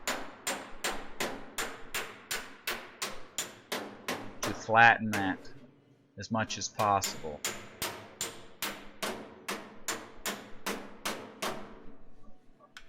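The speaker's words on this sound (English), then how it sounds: "I'm doing a hammer on dolly" Sharp metallic hammer-on-dolly strikes on creased car body panel ring out in a steady rapid series, with someone talking briefly in the middle before the regular tapping resumes.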